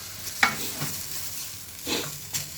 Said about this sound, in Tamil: இது தக்காளி ஆட் பண்ண போகிறோம்.